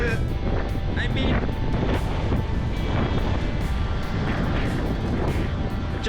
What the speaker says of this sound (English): The wind is so strong, so fierce